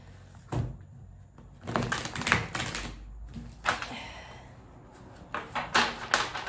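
Tarot cards being shuffled in a series of crisp riffling bursts and taps, some louder than others, with short quiet gaps between handfuls and no talking.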